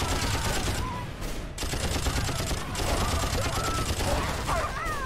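Sustained rapid gunfire from the video game Avatar: The Game, dense automatic bursts pounding continuously with brief dips, loud and close, with faint other sounds underneath.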